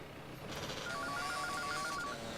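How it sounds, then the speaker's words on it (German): A telephone ringtone played over the car radio in GTA San Andreas trills as a repeated electronic ring for about a second, fairly faint amid game ambience and engine noise. "Ah, ich dachte, das war wirklich ein Telefon, aber anscheinend ist es wirklich im Radio."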